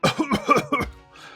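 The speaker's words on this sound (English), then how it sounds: "Doesn't look like this cough's going away." A game character's coughing fit from Hundred Line Last Defense Academy: four or five rough, close coughs in quick succession, then a faint breathy tail.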